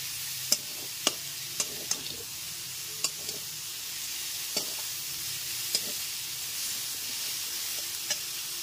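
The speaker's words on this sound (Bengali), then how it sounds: "এবার পেঁয়াজ কুচি আর ক্যাপসিকাম কুচিটা খুব ভালো মতো মিশিয়ে নিচ্ছি" Chopped onion and capsicum being stirred in a hot pan on a gas stove, a steady sizzle with sharp spatula scrapes and taps against the pan every second or so.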